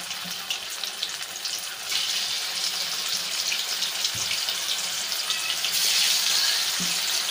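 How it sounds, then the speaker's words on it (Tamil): Marinated chicken 65 pieces dropped into hot oil, a steady sizzling hiss that jumps louder after about two seconds and carries on with crackling pops. "இப்போ எண்ணெய் காஞ்சிட்ருக்கு, நம்ம எண்ணெயில் போட்டு இதை பொரிச்சு எடுத்துடலாம்."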